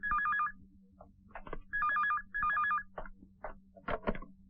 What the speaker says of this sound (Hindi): किसका फोन है देवराज?